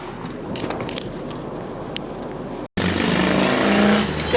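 A motorcycle with vintage shark-tail twin exhausts roars past, its engine rising after a brief cut to a loud, sustained close pass.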